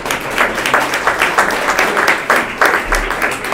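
An audience at a blockchain hackathon pitch session claps in a sustained, dense round of applause, loud and continuous with a lively, roomy wash of many hands.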